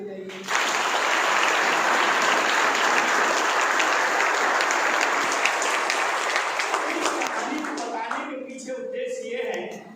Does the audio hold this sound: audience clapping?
yes